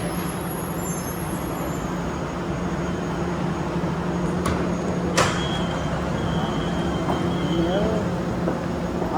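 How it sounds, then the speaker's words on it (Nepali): A Kuala Lumpur metro train pulls into a station, giving a steady rolling rumble with brief hissing brake releases and faint wheel squeals, set against general station noise. "ल मेट्रो पनि आइयो"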